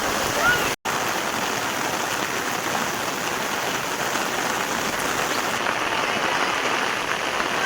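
Heavy monsoon rain pours down in a village, a loud and steady hiss of rain on surfaces with water rushing. Audio drops out briefly near the start.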